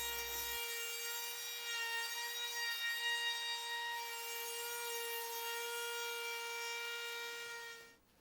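A router cuts a 3/8 inch round-over along the edges of a cedar patio tabletop, giving a steady, close, high-pitched whine with no talk before it winds down at the end.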